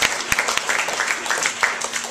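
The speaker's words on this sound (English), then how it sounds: "Let us clap for ourselves." A short burst of audience applause, many hands clapping together at a steady, moderate level.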